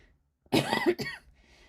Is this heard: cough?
yes